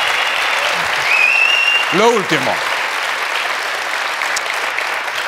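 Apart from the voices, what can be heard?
studio audience applause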